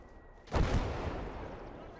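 A single mortar round fires in Call to Arms: Gates of Hell, a sudden heavy boom that rolls into a lingering rumble, fairly close, with someone talking over it.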